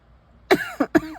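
A woman coughs three times in a quiet indoor setting during a crochet session: one harsh, strong cough, then two shorter, sharp coughs close together.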